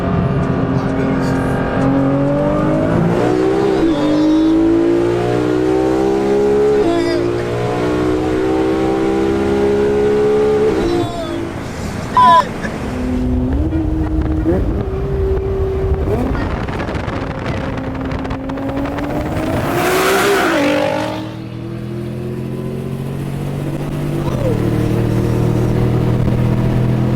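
A 1400-horsepower Nissan GTR accelerates hard at night, its engine note climbing in long rising sweeps through several gears with a brief shift break near the middle, loud from inside the cabin, with occupants talking over it.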